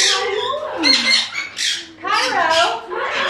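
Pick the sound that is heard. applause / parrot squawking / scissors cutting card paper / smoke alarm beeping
parrot squawking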